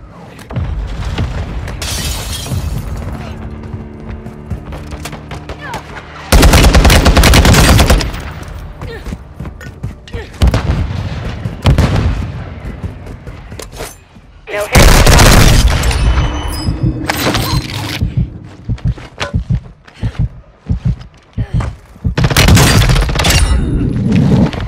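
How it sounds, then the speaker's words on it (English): Mortar strike explosions in Call of Duty Warzone 2, several loud, broadband booms landing in bursts over about twenty seconds, mixed with crackling gunfire and debris amid constant battlefield noise. "Mortar strike inbound."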